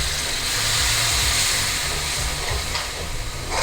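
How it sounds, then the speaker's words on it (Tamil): A steady loud hiss and bubbling rush as a cup of hot water is poured into a hot pan for a South Indian potato gravy, continuous for a few seconds with no talking. "இப்போ வந்து 1 கப்பு வந்து ஹாட் வாட்டர் விட்டுக்கோங்க."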